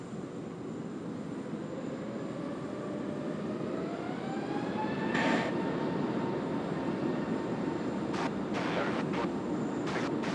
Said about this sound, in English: Our last fully featured takeoff of the day.